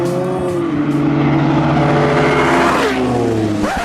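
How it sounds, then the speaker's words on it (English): A Ferrari 812 Superfast engine revs hard up through its range, a loud, close, rising roar with a brief drop and another surge near the end. "Next up, the Ferrari 812 Superfast. Let's see what this thing can do."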